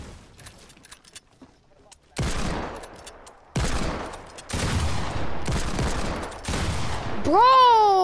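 Hand cannon gunfire in a video game: a series of loud, sharp shots in quick succession, each with a short decaying tail, followed by a rising electronic whine at the end.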